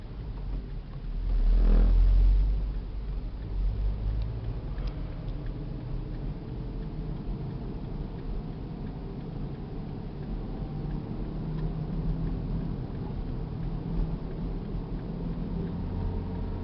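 Car engine droning steadily inside the cabin during a driving lesson, with a brief louder surge near the start before settling into a continuous low hum.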